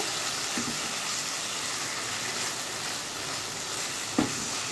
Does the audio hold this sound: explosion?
no